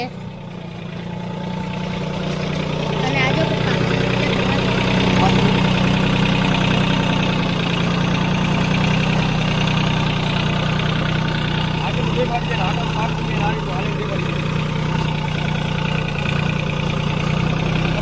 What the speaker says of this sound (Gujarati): એવું હાવ નાનકડું ટ્રેક્ટર છે